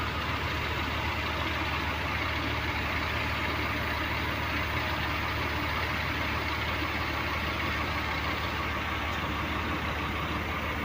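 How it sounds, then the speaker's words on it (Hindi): A Hydra crane's diesel engine idles steadily and loudly close by, a continuous low rumble with no speech. "आप ये हाइड्रा मशीन देख रहे हो ना"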